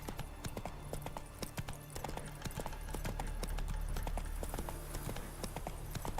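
Roach the horse trotting in The Witcher 3, hooves clip-clopping in a steady, fairly close rhythm over a low ambient game backdrop, with no talk.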